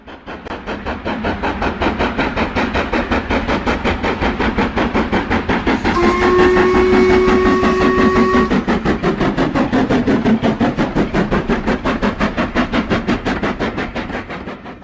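A steam train in the Trainz video game chuffs in a fast, steady rhythm throughout, loud and continuous, with a sustained whistle sounding for a couple of seconds midway.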